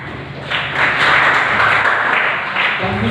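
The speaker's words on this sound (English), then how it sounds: "Once again, let us give him a big round of applause" Audience applause after a speech by the rector of Aquinas College, Gopalpur, at a hall gathering of philosophy students: a crowd's steady, dense clapping that swells after half a second and continues to the end, close and fairly loud.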